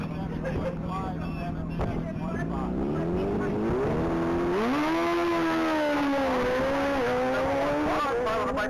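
Chevrolet Camaro ZL1 at full throttle during Texas Mile top-speed racing, its engine a loud sustained roar with the pitch climbing through a gear change, while an announcer talks over it.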